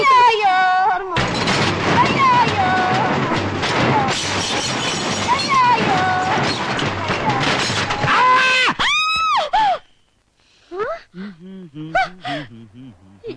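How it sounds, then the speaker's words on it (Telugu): A loud, sustained burst of shrill, harmonic cries, like screaming, fills most of the clip before dropping to quieter, broken vocal sounds. "నాకేదో అరుపు వినిపించింది"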